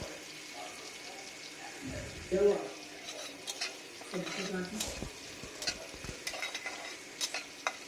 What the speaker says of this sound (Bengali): পেঁয়াজটা আমার লাল লাল মোটামুটি ভাজা হয়ে এসছে আর একটু ভাজা হলেই হয়ে যাবে